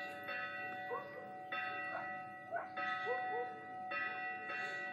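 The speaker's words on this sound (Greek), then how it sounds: "Περίμενε τώρα να χτυπήσει η καμπάνα." A church bell rings in a Greek village with repeated strikes about every second, and each ringing tone lingers. Faint voices and background murmur sit underneath.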